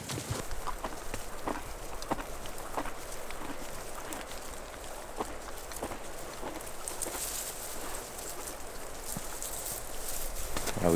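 Horses on a backcountry trail during a horseback fall bear hunt plod along with steady, evenly spaced hoof clip-clops, close and fairly loud over a constant rustling wash of outdoor noise.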